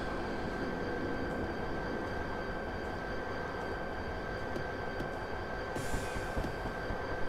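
Class 59 train on the Medway Valley Line in Train Simulator 2018, with a steady rumbling rail roar and faint wheel squeal held evenly throughout, moderately loud with no voices.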